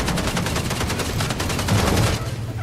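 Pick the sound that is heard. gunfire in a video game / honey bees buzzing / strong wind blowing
gunfire in a video game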